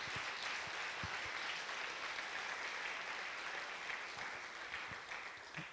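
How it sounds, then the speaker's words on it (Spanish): Church congregation applauding during a sermon; dense, even clapping holds steady at moderate distance throughout and trails off slightly at the end, with no voices over it. "Den un aplauso al Señor"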